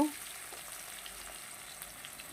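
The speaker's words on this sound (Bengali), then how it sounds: "আর দিয়ে দেবো একটু পেঁয়াজ এটা একটু ভাজা ভাজা হবে" Onion frying in a pan for a spicy fish curry, giving a steady, soft sizzle throughout with no talking over it.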